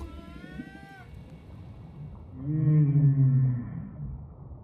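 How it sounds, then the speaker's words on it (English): Humpback whale song: a rising, wavering tonal call, then a loud low moaning phrase swelling in the middle before fading, with a faint background hiss. "The songs are so loud, they can be felt through the boat's hull."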